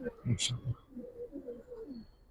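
Giribaz and coloured pigeons give low, soft coos in a few short pulses, then a quieter burbling run, with a brief higher chirp early and faint talk mixed underneath.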